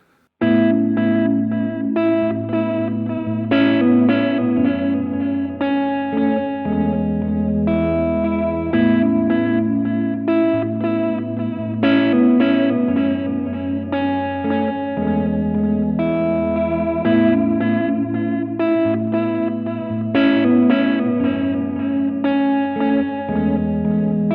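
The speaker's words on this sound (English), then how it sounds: "introduces tape echo like noise, static, and wow, and flutter" Chase Bliss pedal looping a tape-echo effect with noise, static, wow and flutter, a repeating distorted melodic phrase with wavering pitch and echoes, steady and loud with no talk.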